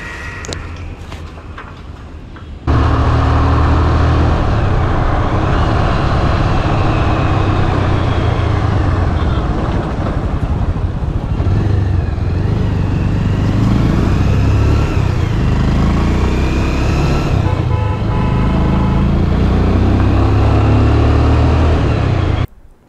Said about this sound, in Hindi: गाड़ी बहुत खांस रही है और पूरे टैंक पे पानी भरा हुआ है।